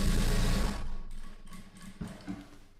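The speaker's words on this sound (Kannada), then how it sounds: "ಹೊಲಿಗೆ ನಾನು ಯಾವ ಸೈಡ್ ಹಾಕ್ತಾ ಇದ್ದೀನಿ ಎಲ್ಲಿ ಹೊಲಿಗೆ ಹಾಕ್ತಾ ಇದ್ದೀನಿ" Sewing machine stitching fabric, a short loud burst of fast mechanical whirring that stops after about a second, followed by quieter handling clicks and a faint bump, close by.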